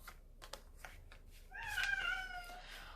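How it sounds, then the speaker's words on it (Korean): A cat lets out one fairly loud, drawn-out meow indoors, preceded by faint soft tapping and shuffling sounds. "우렁차게 웁니다. 저희 고양이가."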